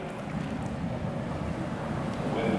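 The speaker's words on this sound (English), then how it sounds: "Wind coming from the port side of the ship." Near-gale wind sweeping across the deck of the QE2 during an Atlantic crossing: a steady rushing roar with a low rumble, no voices.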